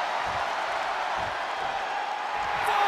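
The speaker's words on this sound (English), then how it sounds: "The sound of this crowd is deafening, and he's asking for more." A video game wrestling arena crowd from WWE 2K22 roars in a steady, dense wash of cheering and applause, filling the whole stretch without letting up.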